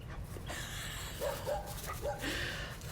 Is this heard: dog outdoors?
yes